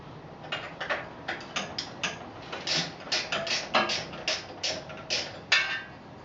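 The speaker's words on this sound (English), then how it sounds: "same 10mm, we loosen up the chain adjusters, and just loosen them up till they're, back them off a 1/4 of an inch or so" Rapid metallic ticks and ratcheting clicks in short bursts from a 10mm wrench backing off the chain adjusters on a motorcycle, close and fairly quiet, with no talking.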